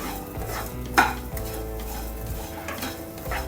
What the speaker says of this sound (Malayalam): കുറച്ച് കറിവേപ്പിലയും ഇട്ട് കൊടുക്കാം ഇതെല്ലാം നല്ല ഒന്ന് വാട്ടിയെടുക്കാം